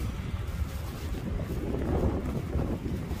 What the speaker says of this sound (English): It's so windy here, babe.